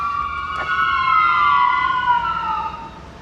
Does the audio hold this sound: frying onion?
no